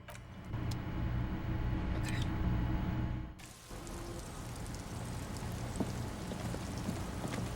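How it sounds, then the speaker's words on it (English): Steady rain falls in the Disco Elysium video game, a soft even patter that runs throughout, quiet and continuous, shifting slightly in tone partway through with a few faint clicks. "And it's raining."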